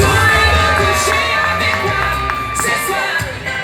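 A large crowd at a hypnosis show cheers and whoops loudly, with high excited shouts rising over a continuous roar of applause and voices.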